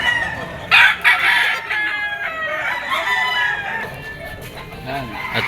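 A white-legged Boston gamecock rooster crows loudly and close at a rooster market in Padre Garcia, Batangas, with one drawn-out cock-a-doodle-doo, clucks and other fowl around it, and faint market chatter in the background.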